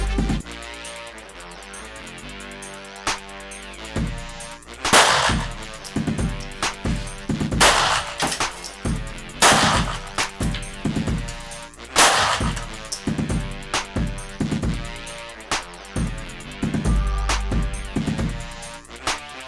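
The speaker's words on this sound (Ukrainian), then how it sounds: "давайте проведемо балістичні тести та подивимось, як вона реагує" Sharp, loud gunshots in ballistic tests on a helmet mask ring out one by one at irregular intervals, each a hard crack with a brief echoing tail.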